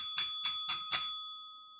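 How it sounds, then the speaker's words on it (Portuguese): A small bell rings four times in quick succession, bright and close, ending with a ringing tone that fades out as a time-up signal. "o sininho aqui toca, que já deu tempo"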